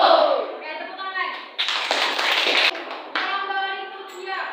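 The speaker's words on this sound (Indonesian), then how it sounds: "Oke, tepuk tangan." A classroom of students bursts into a short round of hand clapping for a group, framed by children's and a teacher's voices talking before and after.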